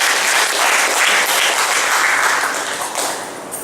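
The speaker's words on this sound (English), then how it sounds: "Can we give a clap of praise to our God?" A congregation at a church service claps in praise, a loud, dense burst of applause that swells and then slowly tapers off, with no speech over it.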